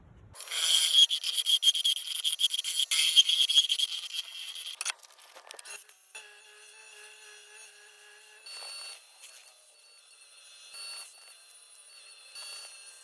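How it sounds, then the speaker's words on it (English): A swan neck rounded scraper shaves the inside of a turned Big Leaf Maple bowl, giving a steady, faint scraping rasp for several seconds that then fades to quieter intermittent rubbing and light ticks. "I'm going to come in with this swan neck rounded scraper and carefully get the bottom just right"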